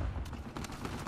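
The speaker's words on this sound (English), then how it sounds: "Got like fucking everybody shooting at me." Rapid gunfire in an Uncharted 4 multiplayer match, a volley of sharp broadband shots cracking in quick, uneven succession over a dense low rumble of combat, with no voices.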